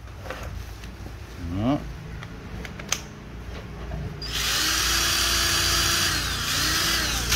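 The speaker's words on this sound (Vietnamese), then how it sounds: "Em thấy mình đang dùng cái máy khoan thì không?" A Japanese cordless battery drill revs up and runs at a steady high whine for several seconds, close to the microphone, following some quieter handling noises.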